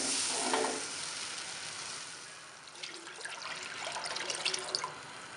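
Water heating in a pot for cooking rice, roughly six glasses for a kilo of rice, gives a steady close hiss with soft bubbling and faint crackles throughout; no one speaks.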